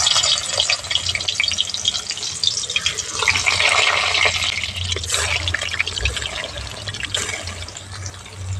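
Lentil patoori sizzling as the pieces are lowered one by one into hot mustard oil in a wok, a continuous bright crackling fry with bursts of spitting throughout.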